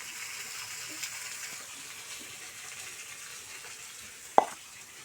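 Small puti fish fry in a pan with a steady, soft sizzle and crackle running quietly throughout, broken near the end by a single sharp clatter close by.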